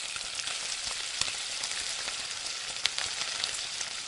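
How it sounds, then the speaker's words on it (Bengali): Pieces of katla fish fry in hot oil over high heat, giving a steady, close sizzle with occasional sharp pops and crackles, no voices. "মাছের পিসগুলো একটু ভালোভাবে ভেজে নেব।"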